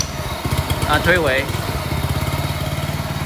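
A Honda FF300 tiller's engine pull-started indoors and settling into a close, steady, rapid putter, with a voice speaking briefly over it.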